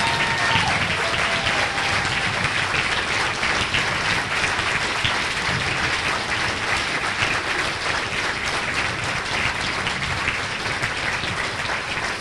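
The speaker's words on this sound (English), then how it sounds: "Let's keep clapping." Sustained audience applause fills a political caucus gathering honoring Wisconsin legislators, dense and steady clapping from a large crowd throughout, with no break or voice rising above it.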